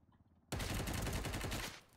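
Video game gunfire erupts abruptly and loudly, a dense sustained burst of rapid shots lasting over a second before cutting off, with quiet voice chat beforehand.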